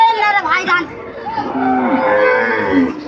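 At a cattle market in Joypurhat, a cow moos loudly up close with long, wavering calls, and crowd chatter murmurs behind it.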